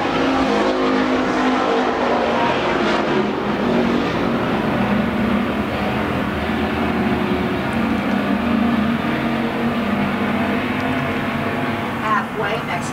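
Pure stock race cars running laps on a dirt speedway in Arizona, engines roaring continuously and loud with pitch shifts as cars pass, with an announcer talking over the racing.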